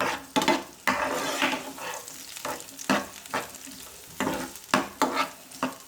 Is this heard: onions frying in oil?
yes